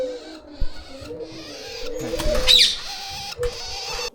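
Fancy lakkha pigeons coo at a pet bird farm. The soft coos are mixed with clattering and other bird noise close by.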